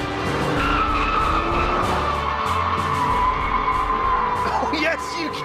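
Honda NSX hybrid supercar skidding on a track, tyres squealing steadily over the roaring engine, loud and close throughout with a voice talking over it.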